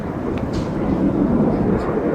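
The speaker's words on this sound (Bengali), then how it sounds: "বিমানের কি পরিমাণ সাউন্ড দেখছেন?" An airplane engine gives a loud, steady broadband roar close by, like being inside or beside the aircraft, with faint voices in the background.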